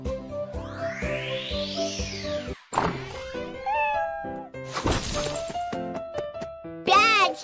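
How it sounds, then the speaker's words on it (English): A cartoon cat meows and yowls while being chased by a duck in a children's learning cartoon, with sliding, wailing cries, thuds and sharp effects over bright background music, loud and busy throughout. "Bad kitty!"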